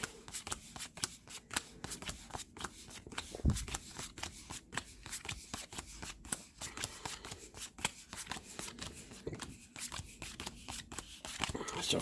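Board game cards for NATO Air Commander are shuffled over and over, with steady crisp riffles and snaps close to the listener across the whole stretch.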